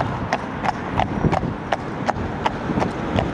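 Driven horses pull a carriage at a steady trot, their hooves clip-clopping in an even rhythm on firm ground, close and clear above a low background rumble.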